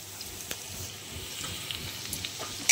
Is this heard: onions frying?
yes